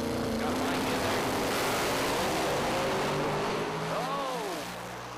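A racing machine's engine warms up before a run at a motorsport event, a loud continuous drone with rising and falling pitch sweeps near the end, then easing slightly in volume.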